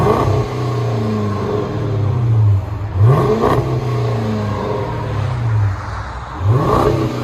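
A 2013 Chrysler 300 S with the 5.7L HEMI V8, dual exhaust and rear muffler delete idles with a deep rumble, then blips loudly up and back down, three sharp revs rising over the steady burble, heard close with no talking.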